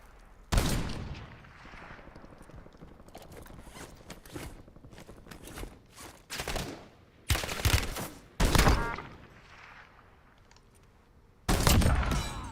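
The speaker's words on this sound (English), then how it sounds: "Taking effective fire." Gunfire rings out in a Call of Duty Warzone match in Verdansk, with loud automatic bursts and single shots spaced across the clip and quieter mechanical clicks between them.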